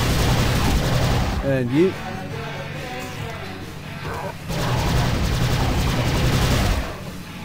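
Gunfire in the video game Prey rattles steadily and loudly, with a pause in the middle, while game sounds and a brief spoken voice sit underneath.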